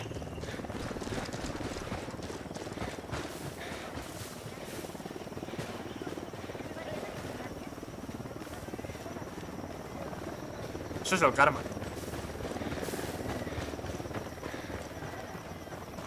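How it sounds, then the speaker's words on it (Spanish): An approaching helicopter in the game Ghost Recon Wildlands drones as a low, steady rotor hum in the background while someone talks over it, with a brief sharp burst near the end. "Se acerca un helicóptero."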